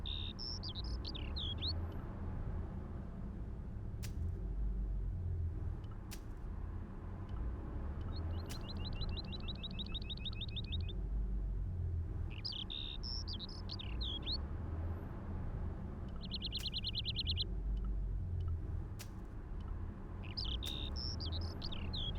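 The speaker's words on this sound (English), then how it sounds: "all I could hear was the ceaseless drone of traffic" In the video game Broken Sword Reforged, a steady, low city traffic drone fills the background while birds chirp and trill in short bursts overhead.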